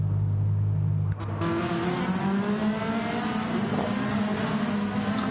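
A racing car's engine in a racing video game drops from a steady drone to a lower, rising whine as it pulls into the pits, close and continuous with no talk.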